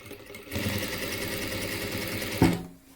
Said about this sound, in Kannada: ನೋಡಿ ಲಾಸ್ಟ್ ಎಡ್ಜಲ್ಲಿ ಸ್ಟಿಚ್ ಹಾಕೋಣ